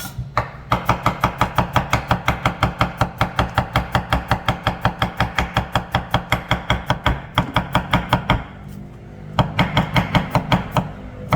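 A knife slices cucumber thinly, about 2 to 3 mm, on a cutting board in a fast, even run of crisp, close chops, then pauses briefly and picks up again.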